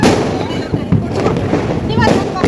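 Diwali firecrackers bursting outdoors during a festive celebration, a dense run of cracks and pops over a busy, noisy background, with voices faintly present.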